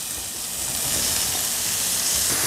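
Eggplant cooks in a pan with garlic, giving a loud, continuous, close-up sizzle with steady hissing and no break in the frying sound.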